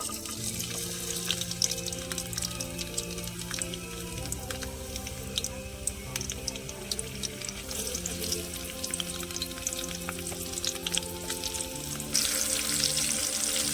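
Onion and green chilli fry in oil in a pan, a steady close sizzle that carries on for the whole stretch over a continuous tonal background hum.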